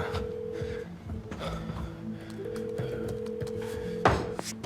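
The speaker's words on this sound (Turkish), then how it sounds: "Hadi Zeynep, aç şu telefonu ya." A telephone call tone sounds as a steady, moderately loud repeating electronic beep pattern, with a sharp tap or click near the end and no speech over it.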